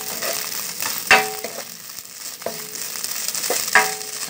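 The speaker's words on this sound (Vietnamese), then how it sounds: "Xào cho cái cá này khi nào nó khô lên, nó hơi bông bông lên là được" Salted fish is stir-fried in a pan, a close steady sizzle punctuated by a few sharp scrapes and clanks of a utensil against the pan.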